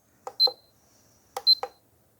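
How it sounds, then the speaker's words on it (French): Two pairs of short electronic beeps from an IZEEKER IG420S trail camera's key press, a clear high tone with clicks, about a second apart, close and fairly quiet with silence between. "Bip de fonctionnement, c'est le bip"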